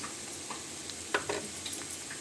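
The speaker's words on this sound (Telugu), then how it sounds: "అన్నీ వేసి బాగా కలిసేలా కలపాలండి." Taro and potato curry with gram flour, chili and salt gets stirred in a pan, giving quiet scraping spoon strokes and a few soft clacks over a faint sizzle.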